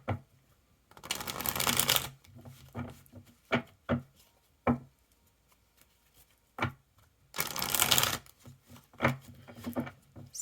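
A tarot deck being shuffled up close: two long riffling bursts separated by a string of sharp taps and card knocks, with no one speaking.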